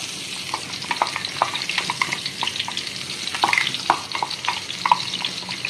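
Ginger garlic paste frying in hot oil for a North Indian style chicken curry, a close, steady crackling sizzle with scattered pops and stirring scrapes throughout, no voices.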